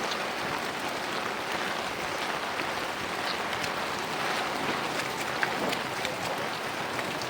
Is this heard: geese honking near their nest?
no